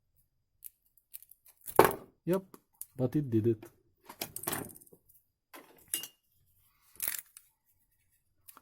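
Small scissors snip through a power cord on a cheap power strip in a few crisp, close cutting crunches. The cuts come under and between bits of casual talk.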